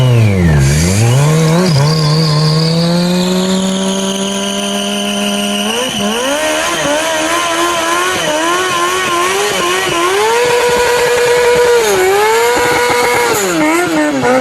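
Kawasaki motorcycle engine revving loudly up and down close by, with repeated throttle blips and sustained high revs, no talk over it.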